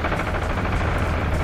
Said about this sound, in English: I hear lots of gunfire, though.